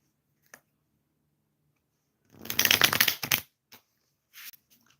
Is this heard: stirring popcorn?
no